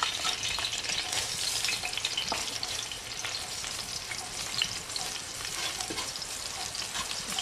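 Garlic frying in hot oil with salt as a base for red rice with pork spine: a dense, loud, steady sizzle that crackles without pause throughout, close up and free of speech.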